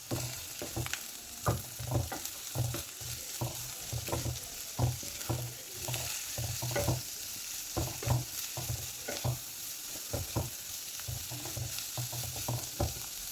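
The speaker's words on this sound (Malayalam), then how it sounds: "ഇട്ട് കൊടുത്ത് എല്ലാം കൂടി ഇട്ട് കൊടുത്തൊന്ന് ഇളക്കി കൊടുക്കാം." Chopped cabbage fries in a pan and is stirred steadily and rhythmically, with repeated close scraping strokes over a constant sizzle for more than ten seconds.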